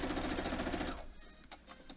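A sewing machine stitches a foundation paper-pieced quilt block, running in a fast, loud rattling burst for about a second before stopping, followed by a few faint clicks.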